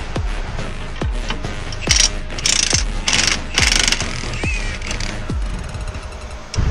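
A ratchet works suspension bolts loose on a 5th-gen Camaro SS during a drag suspension install: loud, close bursts of fast clicking alternate with sharp metallic knocks and short pauses, without talk.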